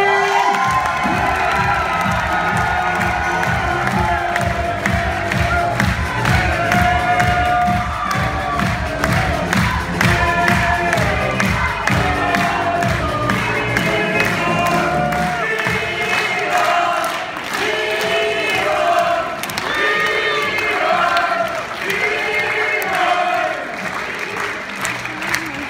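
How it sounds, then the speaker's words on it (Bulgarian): An audience at a company conference in Plovdiv gives a standing ovation for a director, a loud continuous mix of rhythmic clapping, cheering and whooping shouts lasting throughout, with chanting swells over the applause. "искам да чуя вашите бурни овации за диамантен директор"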